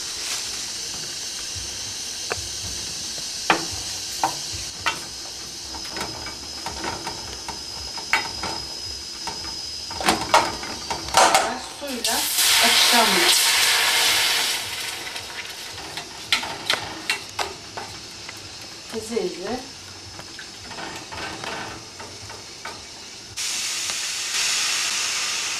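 Flour and butter roasting and being stirred in a pot for a creamy Turkish tomato soup, giving a steady sizzle and steamy hiss with scattered clicks and scrapes of stirring, a louder hissing burst midway, and no talk.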